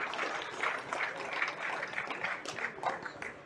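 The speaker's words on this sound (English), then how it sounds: "A well-deserved round of applause." Audience applause after a shot in a 10-ball pool final at the Wisconsin Open, a steady patter of clapping from a crowd that holds for the whole stretch at moderate level.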